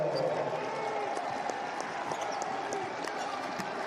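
Home crowd of about 1,300 at an Iowa State men's college basketball game against West Virginia, giving a steady roar of cheering and applause, with sneaker squeaks and thumps from the court mixed in throughout.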